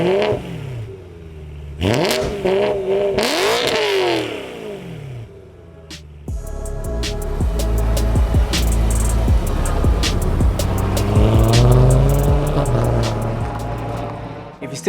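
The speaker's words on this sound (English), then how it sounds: "Yeah, let's drive. Yeah, let's do it, mate." A car drives and accelerates, its engine rising and falling through repeated revs and gear changes, loud and close, with talking heard over it.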